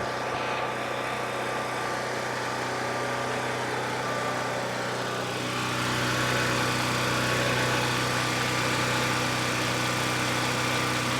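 A portable generator engine runs steadily, giving a constant, fairly loud mechanical drone with a low hum throughout and no speech.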